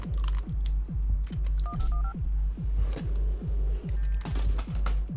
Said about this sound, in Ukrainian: Я чомусь думаю, що він зараз користається телефоном